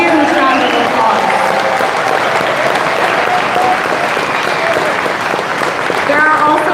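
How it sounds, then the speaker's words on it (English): A crowd at a political rally in Calgary, Alberta, claps and cheers in a dense, continuous wash of applause with some voices mixed in. "Let's give them a huge round of applause"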